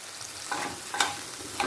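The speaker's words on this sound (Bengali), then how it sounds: "নুন আর হলুদটা টমেটোর সাথে মিশিয়ে নিচ্ছি" A spatula works salt and turmeric into tomato in a frying pan, producing a steady sizzle with a few louder scraping strokes against the pan.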